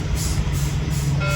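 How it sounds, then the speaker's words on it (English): Air governor on a broken-down truck with an air system failure releases air at the roadside: a steady, fairly loud hiss over a low engine rumble, with no voices. "It's a good old air governor."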